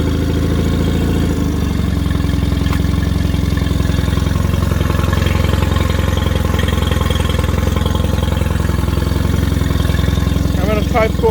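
A Mercury 20 HP outboard motor starts up and settles into a steady, loud, close putter with a chugging idle rhythm, holding continuously throughout.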